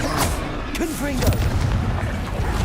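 Confringo blasting spells explode in Hogwarts Legacy combat: deep, rumbling booms roll continuously beneath a shouting voice.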